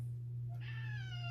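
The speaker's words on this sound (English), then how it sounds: "my cat's getting upset because I haven't fed her in 20 minutes" A house cat meows once, a clear rising cry close by that follows a quiet moment, with a steady low electrical hum underneath.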